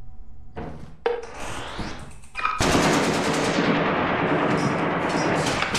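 Sustained gunfire in the Lethal Company video game: a few scattered shots and scrapes, then a loud, dense, continuous burst of automatic fire that keeps going to the end.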